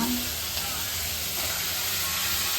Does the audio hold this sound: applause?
no